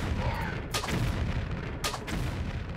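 Gunfire in the video game Tomb Raider The Last Revelation, set in Cleopatra's Palace: two sharp shots about a second apart over a loud, steady wash of game noise.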